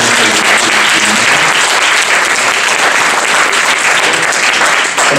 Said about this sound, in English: last round of applause